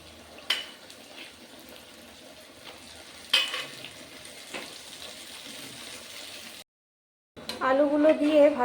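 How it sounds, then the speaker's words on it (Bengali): Boiled potatoes fry softly in a pan with occasional utensil knocks and a brief silent gap, then a voice speaks over the sizzle near the end. "আলুগুলো দিয়ে ভালো করে ভেজে নিয়ে তারপর গ্রেভি ঢেলে দিয়েছি।"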